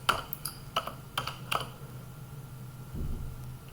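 A computer keyboard clicks out lines of Python code in a handful of crisp, separate keystrokes over the first second and a half, close and fairly quiet, followed by a near-silent pause with faint low room hum.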